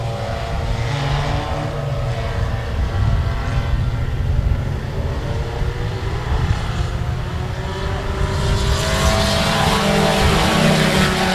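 Stock race cars roar off at the start at Cotton Bowl Speedway, a loud dense pack of engines droning continuously and swelling as they accelerate down the straightaway.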